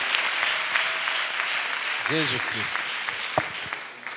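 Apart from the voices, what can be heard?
audience applauding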